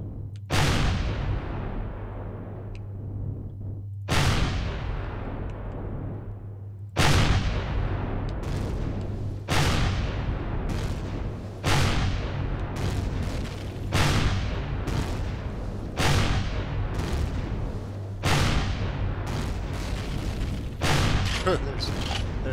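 Repeated explosions in the space-survival game Empyrion - Galactic Survival, a dozen or so heavy booming blasts at irregular intervals, each decaying into a rumbling tail over a steady low hum, with a voice talking throughout.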